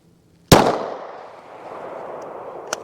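A single sharp, loud gunshot from a P80 pistol with a 4 1/4-inch barrel fired into ballistic gel, its blast fading into a long echoing tail, followed by a faint metallic click near the end.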